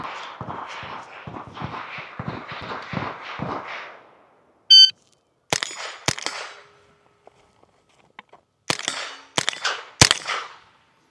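A shot timer beeps on a Steel Challenge Outer Limits stage, then loud, sharp pistol reports follow: two spaced shots, then a quicker string of several more, each standing alone with short gaps between them.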